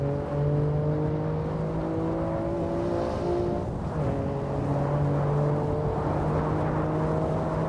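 A BMW G87 M2 engine in the racing game Assetto Corsa drones steadily at high revs on the Nordschleife with harmonic whine, briefly dipping as a gear shifts, then climbing again; loud and continuous, no talk.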